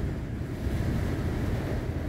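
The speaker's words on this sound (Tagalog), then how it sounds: "Talagang malakas ang tinamaan yung Catanduanes ng malakas na hangin." Strong wind from a super typhoon roaring over Vera, Catanduanes, a constant heavy low rumble buffeting the microphone, loud and unbroken with no voices.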